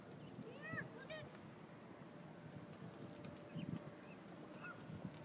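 Several nasal goose honks ring out in a short cluster, then two or three more spaced apart over a busy outdoor background with low voices.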